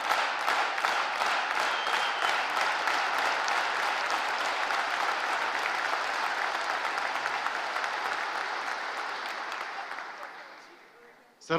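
A large audience at a North Macedonian election rally applauds Prime Minister Hristijan Mickoski with loud, sustained clapping that fades out at the end.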